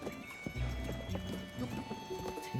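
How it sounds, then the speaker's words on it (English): Donkey hooves clip-clop in a loose, uneven rhythm of soft thuds under a busy ambient game soundscape in Zelda: Tears of the Kingdom, with no talking. "Don't see that many donkeys around here."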